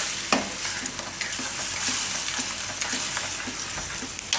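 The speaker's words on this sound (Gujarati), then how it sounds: "વચ્ચે વચ્ચે આ રીતે હલાવતા રહેવાનું" Paneer bhaji tomato masala made with tomato puree cooks in a pan over a full flame, giving a continuous loud sizzle and hiss with light, regular scraping from stirring.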